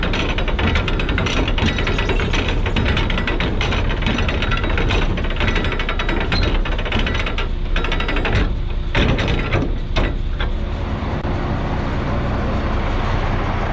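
Tarp being unrolled inside a grain bin during corn cleanout, a dense, loud scraping and rumbling with ratchet-like clatter, echoing in the enclosed metal space and easing off near the end.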